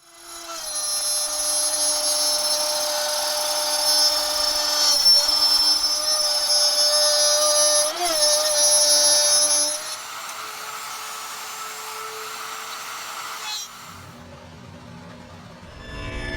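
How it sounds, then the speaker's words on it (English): Power router cutting a dovetail groove into a wooden bandsaw sled, a loud steady high whine for about ten seconds before the cut ends and the motor winds down and stops. "So let's fire up the router."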